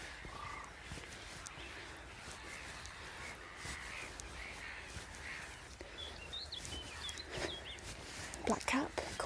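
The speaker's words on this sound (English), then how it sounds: "so you can hear the black-headed gulls again." Black-headed gulls calling at a lake in a spring nature reserve, harsh scattered cries over faint background noise, growing louder and more frequent toward the end.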